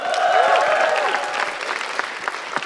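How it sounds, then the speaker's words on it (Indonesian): Audience applause greeting the next performer at a comedy event, a dense burst of clapping that stays steady and close before thinning slightly toward the end, with some crowd noise mixed in. "Langsung tepuk tangan saja untuk Akbar"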